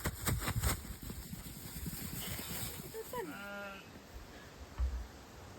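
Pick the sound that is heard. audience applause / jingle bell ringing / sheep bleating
sheep bleating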